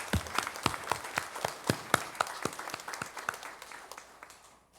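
Scattered hands applaud in a church service, a soft, sparse patter of separate claps that thins out and fades to silence within a few seconds.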